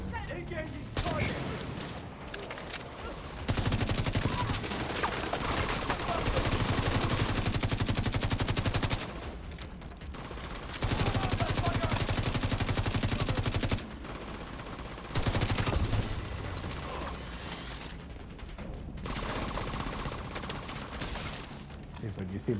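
Video-game gunfire from turrets and weapons, sustained machine-gun bursts in loud stretches broken by brief pauses, with a voice speaking over the shooting.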